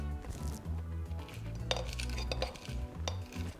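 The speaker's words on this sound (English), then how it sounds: "add jalapeno slices and pineapple chunks to your cocktail shaker and muddle" Muddling jalapeno slices and pineapple chunks in a cocktail shaker for margaritas: repeated dull thuds with clinks and scraping of metal, a steady uneven rhythm close up with no talking.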